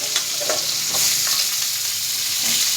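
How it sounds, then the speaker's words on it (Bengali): Dried red chillies, black cumin and white mustard seeds crackle and sizzle in hot oil for a tempering, a dense continuous frying hiss close by with small pops. "এই যে ফোড়নে দিলাম দুটো শুকনো লঙ্কা, একটু কালো জিরে আর একটু সাদা সর্ষে।"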